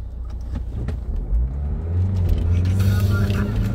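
A car's engine rumbles low and steady while driving after a stall, swelling slightly as it picks up, with a voice faintly present early on.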